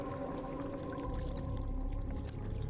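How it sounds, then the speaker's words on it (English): Water poured slowly from an earthen jug back into a pool in the game Dragon Age: Origins, a steady continuous trickle and splash over a low hum, moderately loud throughout with no talking. "Slowly you spill the water out of the jug so it splashes back into the pool."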